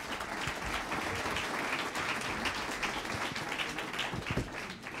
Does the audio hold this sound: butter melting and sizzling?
no